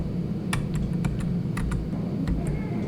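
A handful of sharp computer keyboard key presses, scattered clicks of Control, Shift and arrow shortcuts being tapped in Excel, close up over a low steady room hum.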